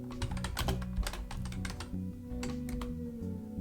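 Rapid, uneven keystrokes on a computer keyboard while code is typed into a Godot 4.5 game-engine script, close and steady over a low sustained background tone, with no talking.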